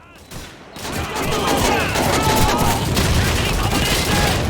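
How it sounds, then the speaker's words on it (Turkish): Dense gunfire and grenade blasts from Call of Duty 2, a loud sustained barrage of overlapping shots and booms rising after a brief quieter start, with a voice speaking early on. "Ya yine el bombası attılar."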